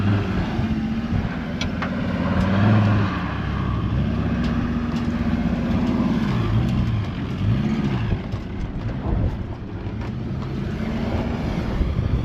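Off-road 4WD engine and exhaust, a close, loud rumbling drone that revs up and down with shifting tones while the vehicle works over rough terrain.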